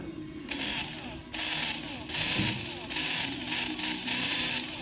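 The electric parking brake caliper motor on a 2016 Ford Mondeo runs in repeated whirring bursts with a buzzing, grinding tone, close and fairly loud, with brief pauses between runs.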